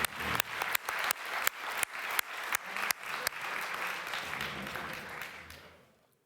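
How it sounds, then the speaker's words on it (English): Conference attendees applaud a roundtable discussion, with a few loud, regularly spaced close claps at first before merging into steady group clapping that tapers off and fades out at the end. "I think we can give this roundtable a round of applause"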